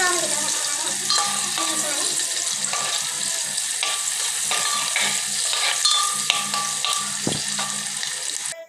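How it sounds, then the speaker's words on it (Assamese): Onions fry in hot oil with a continuous bright sizzle while a utensil stirs and scrapes the pan, with occasional clicks and a brief low knock. "পিঁয়াজখিনি অলপ টাইম গোল্ডেন ব্ৰাউন কালাৰ হোৱালৈকে ভাজিম"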